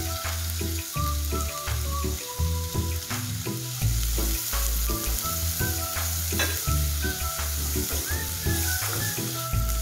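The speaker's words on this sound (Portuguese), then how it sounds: "agora vou colocar a cebola e o pimentão" Garlic, onion and bell pepper sautéing in a pan, a loud steady sizzle with stirring scrapes throughout and tonal music playing along underneath.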